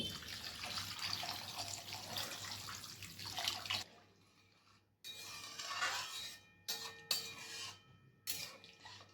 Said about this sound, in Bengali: এরপর আমি এর স্টেজে জল দিয়ে দিচ্ছি।